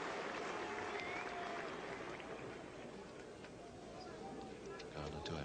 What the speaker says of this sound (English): the applause there, of course, for Bairstow, who's now top scorer in this England innings